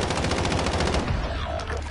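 Rapid automatic gunfire rattles in a PS4 video game, a dense burst of repeated shots for about a second that then thins into a rougher, fading clatter, loud and close.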